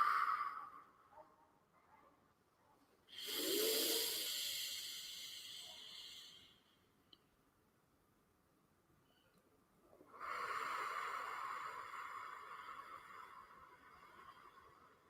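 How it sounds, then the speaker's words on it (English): A slow, soft exhale during a guided breathing exercise comes twice as long airy breaths, each lasting several seconds, close and quiet with near silence between them. "and exhaling out"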